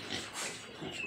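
A pig on a farm, kept alongside chickens, gives a few soft, rough grunts close by in a quiet pen, short and low with brief pauses between them.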